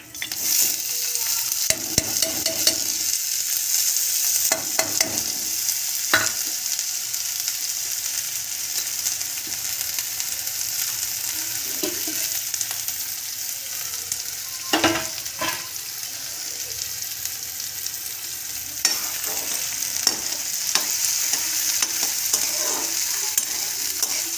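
Chopped onion and cumin seeds frying in hot oil in a pan, a steady close sizzle running throughout with occasional scraping stirs and clinks, and no talking.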